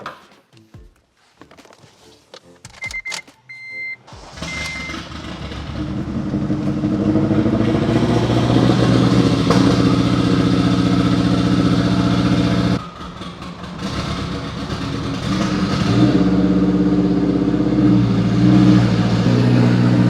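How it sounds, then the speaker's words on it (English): Clicks and a brief starter whir, then a turbocharged 8th-generation Honda Civic engine fires up loudly on a cold start and settles into a rough, throaty idle, close by, with a few revs. "Let's see if we can get a cold start for the boys."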